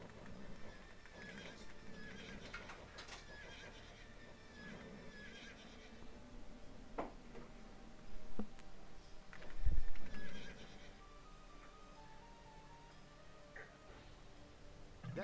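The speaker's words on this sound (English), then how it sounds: "My Cid, here is your horse" A horse whinnies and snorts while hooves clop intermittently in the video game Age of Empires II HD, with a couple of heavier thuds; no one speaks.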